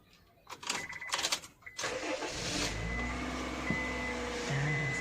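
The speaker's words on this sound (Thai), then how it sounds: "เดี๋ยวผมสตาร์ทเครื่องยนต์เลย" A 2012 Honda Freed 1.5 SE engine cranks with a few rough starter bursts, then catches and settles into a steady idle rumble.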